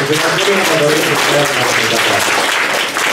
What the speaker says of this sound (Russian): Друзья, во-первых, аплодисменты.